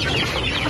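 Farm chickens cluck briefly and close by, a short burst of fowl calls with no one talking.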